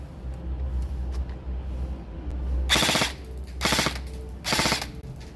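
Three loud bursts of rapid automatic gunfire, each lasting about half a second, ring out at a firing range over a low steady rumble, with no talking.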